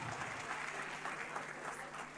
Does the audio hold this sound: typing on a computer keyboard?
no